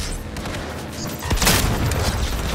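Gunfire in the Cyberpunk 2077 game, a dense burst of booming shots that swells in the second half over a steady background of game sound, loud and close with no talking.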